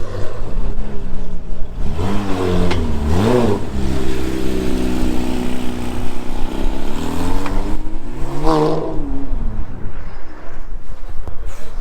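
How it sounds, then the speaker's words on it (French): An Audi RS6 and a Porsche GT3 move off at a cars-and-coffee meet, engines droning steadily with rising revs around the third second and again near the ninth, loud and close without talk. "Il y a Team The One qui bouge avec la RS6 et la GT3, le son c'est incroyable"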